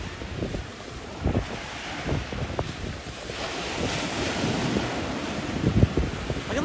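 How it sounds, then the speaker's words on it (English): Ocean waves break on a windy Hollywood, Florida beach, a loud rolling surf wash with a few sharper crashes, mixed with low microphone wind rumble and no voices. "The sound of the waves sounds awesome."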